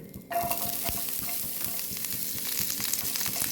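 Chopped onions hit hot oil after mustard seeds in a pan for a Kerala-style bean upperi, bursting into a loud, dense sizzle and crackle that continues steadily, with soft stirring scrapes throughout.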